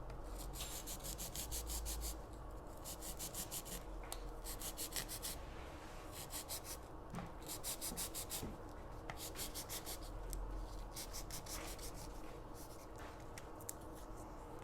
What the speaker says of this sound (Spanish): lo que hago es básicamente ponerme a ras del molde y cortar siguiendo el borde del molde